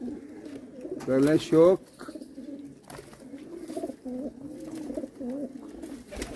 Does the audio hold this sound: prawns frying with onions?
no